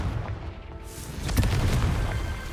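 The Confringo blasting spell in Hogwarts Legacy bursts as a deep rumbling explosion, swelling midway with crackling debris over a low continuous roar, moderately loud.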